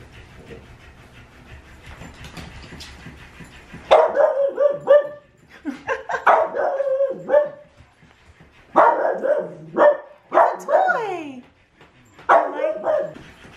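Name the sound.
dogs barking at a floppy fish toy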